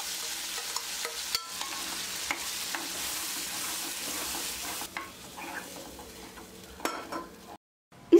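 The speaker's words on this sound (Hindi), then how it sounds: "अब मिर्च पाउडर के जलने से पहले जल्दी से दाल डालकर चला लेते हैं।" Cooked lentils are stirred into a hot tempering of red chili powder for sambar, crackling and sizzling steadily under spoon scrapes, easing off near the end.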